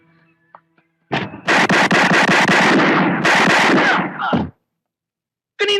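A loud, rapid burst of gunfire rips off in quick succession for about three seconds, close and harsh, then stops abruptly; a brief voice is heard at the very end.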